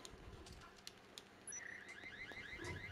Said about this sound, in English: Proximity alarm on A. Proximity sensor.